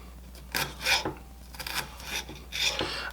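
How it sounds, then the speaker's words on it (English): Knife slicing poblano peppers into thin strips on a board, a series of short close cutting strokes with crisp rasping crunches at an uneven rhythm, no talking. "we're just going to make thin strips out of these"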